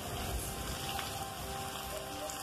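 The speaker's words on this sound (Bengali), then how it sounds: "আদা বাটাটা দিয়ে একটু নেড়েচেড়ে সামান্য ভেজে নেব" Ginger paste and ground spices frying in a pan for a yam masala curry, a steady close crackling sizzle that holds evenly throughout with no voices.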